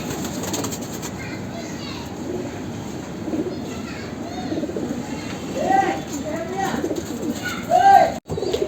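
Soft coos from Pakistani bloodline pigeons repeat throughout amid a busy outdoor din in Khar West, Mumbai, with a person talking nearby and a brief rumble near the end.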